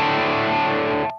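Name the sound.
electric guitar through overdrive pedal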